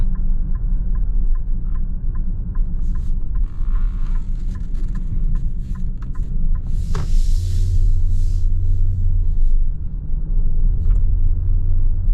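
Cabin of a 2022 Nissan Pathfinder Platinum driving at night, a loud steady low road and engine rumble with a regular ticking turn signal and a brief mid-range swell partway through.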